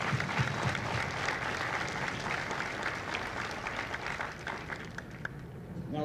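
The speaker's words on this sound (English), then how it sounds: "So ladies and gentlemen, a round of applause for our recruiters across this country." Audience at a Marine Corps recruit graduation ceremony breaks into sustained applause, a continuous thick patter of clapping from a large outdoor crowd that gradually thins toward the end.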